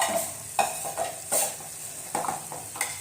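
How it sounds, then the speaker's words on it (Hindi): A spoon stirs spices through frying chicken jalfrezi in a pan, giving repeated scraping strokes over a soft background sizzle, close and fairly quiet, with no voices. "अब जो है हम इन मसालों को अच्छे से मिक्स करेंगे इस तरीके से"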